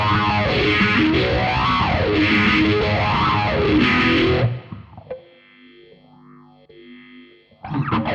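An electric guitar played through a BOSS MD-200 modulation pedal in phaser mode with an SD-1 overdrive chugs out a loud, gritty riff with a rhythmic sweeping whoosh, then a sparser passage where the phase sweep rises and falls, and the riff returns.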